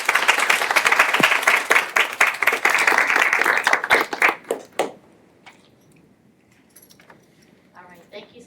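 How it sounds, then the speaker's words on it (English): Audience applauding students at an end-of-year school presentation, dense clapping for about five seconds that thins out and fades, leaving scattered faint claps and low murmuring voices. "Let's have another round of applause of these students."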